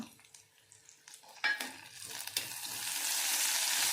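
Curry leaves and chili hit hot oil and ghee: scattered clinks and soft scrapes at first, then a sudden burst of crackling that swells into a loud, steady sizzle.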